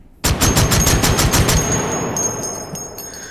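Full-auto shotgun fire in the VR game Hot Dogs, Horseshoes and Hand Grenades, a loud rapid string of about eight booming blasts with a reciprocating barrel, ending abruptly and leaving a fading echo tail.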